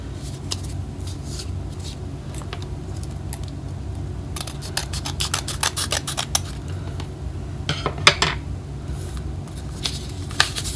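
Scissors snip through a sticker seal on the side of a mail package from a K-pop album and letter haul, giving a run of crisp cutting and rustling sounds that cluster into bursts partway through, close and alone.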